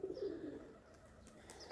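Pigeon cooing nearby in a loft, a soft low rolling coo repeated, with faint background noise and no talk.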